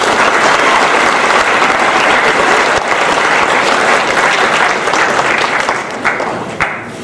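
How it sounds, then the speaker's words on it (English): Sustained, loud applause fills the hall at a winter sports awards ceremony for high school athletes, a dense crowd clapping steadily throughout before tapering slightly at the end. "let's have a round of applause for the athletes."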